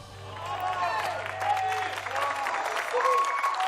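Audience applause and cheering after a vocal performance, a steady wash of clapping from a large crowd with a low hum beneath, continuing throughout.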